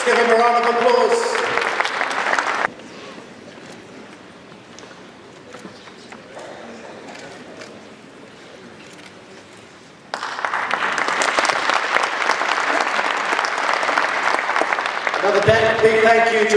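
Loud audience applause at an ICT facility presentation, filling the opening seconds, dropping away to quieter room sound and murmuring, then surging back strongly for the last several seconds.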